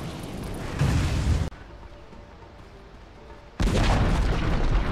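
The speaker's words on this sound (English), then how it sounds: "Dire's bottom tower has fallen" A Dota 2 tower collapses in a loud, booming crash, with heavy explosive rumbles bursting in, dropping away to quieter game ambience for about two seconds, then roaring back just as loud.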